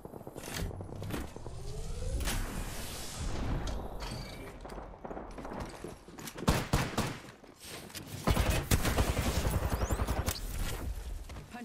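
Rapid bursts of gunfire in the battle royale game Apex Legends, layered with loud volleys and sharp single shots that swell and crack over a dense, busy background, growing heavier toward the end.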